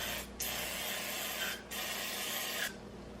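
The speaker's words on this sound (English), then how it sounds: "And then I can spray my muffin tin" An oil mister sprays a muffin tin in long steady hissing bursts, three sprays separated by brief pauses, close and moderately loud.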